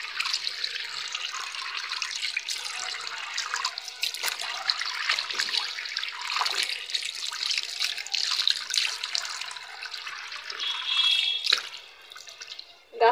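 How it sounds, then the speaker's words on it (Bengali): Tap water pours steadily into a sink basin as it is cleaned, a continuous close splashing stream with small scrubbing knocks, running throughout before cutting off at the very end. "বেসিনটাকেও পরিষ্কার করে নেই।"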